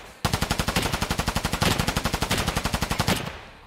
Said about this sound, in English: There is a person shooting me.